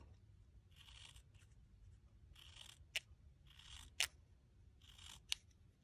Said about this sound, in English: you're going to cut to about as thin, as closely as possible, but leave about a quarter of an inch at the bottom